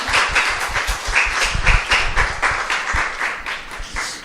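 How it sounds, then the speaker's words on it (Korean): A church congregation at a Sunday thanksgiving service applauds heartily, a full, close wash of clapping with some heavier thumps mixed in, sustained throughout without any speech. "하나님께 우리 감사의 박수 올려드리겠습니다"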